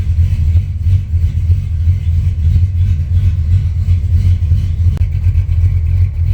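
A cammed LS V8 engine in a G-body car rumbles loudly and close, a low, lumpy idle with slight rises in revs, steady throughout.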